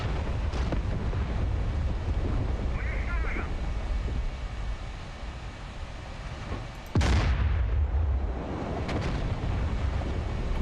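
High-explosive fragmentation shells burst in a tank combat game, a loud blast cracking sharply partway through over a steady rumbling battlefield bed, with a few fainter impacts around it.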